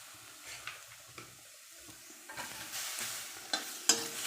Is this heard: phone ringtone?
no